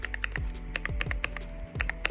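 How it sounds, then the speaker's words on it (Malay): A computer keyboard being typed on, with a run of crisp, close key clacks in an uneven rhythm that pause briefly before resuming. "Di mana saya massage dulu keyboard ni, and also korang boleh dengar sound test dia"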